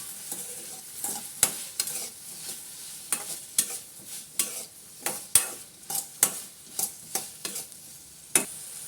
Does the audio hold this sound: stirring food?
yes